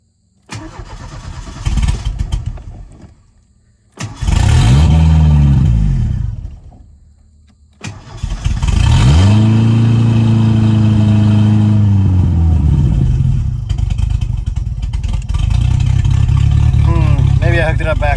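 A Ford Mustang engine cranks, fires and settles into a steady, loud running rumble up close, with brief cranking attempts and revs before it holds an even idle.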